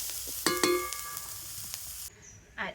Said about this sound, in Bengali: এইভাবে করে সবজিগুলোকে ভেজে নিতে হবে।